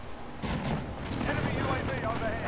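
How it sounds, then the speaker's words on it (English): Precision airstrike explosions in the Call of Duty video game rumble as a dense cluster of booming blasts, loud and rolling for a couple of seconds, with noisy battlefield ambience. "Enemy precision airstrike."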